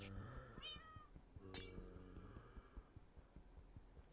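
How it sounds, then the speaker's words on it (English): An ender cat in a roguelike dungeon video game gives a couple of close, wavering meows over a low, throbbing pulse and hum. "So the cat that you can hear is an ender cat"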